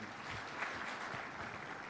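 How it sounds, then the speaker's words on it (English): Faint, distant applause from an audience at a radio event marking financial inclusion, a soft continuous patter of clapping with no talk over it. "Another big round of applause to"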